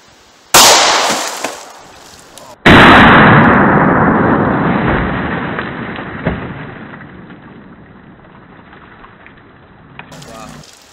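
Two loud .45 ACP gunshots from PDX-1 230 grain rounds fired into water jugs, each a sharp close blast followed by a long ringing decay, the second much longer.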